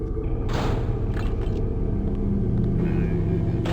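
A metal door opens in the PC game Deus Ex GOTY Edition with a heavy sliding rumble and a grinding metallic scrape, low and sustained for a few seconds.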